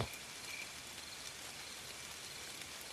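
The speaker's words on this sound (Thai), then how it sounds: "และฝนก็ยังเทมาอีก เป็นฝนหน้าพันษา" Steady rain pouring down as an audio drama sound effect, a soft continuous broadband hiss of falling drops with no other sounds, fairly faint and even throughout.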